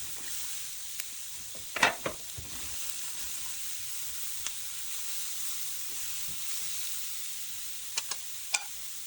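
Tomatoes and capsicum sizzle on a flat tawa pan at home for a street-style paneer burger, a soft steady hiss with a few clanks and taps of a spatula.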